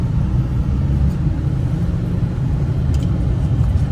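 A car's engine rumbles steadily and loudly at low pitch while the vehicle is eased out of a tight spot, running on near-empty petrol, with no voices over it.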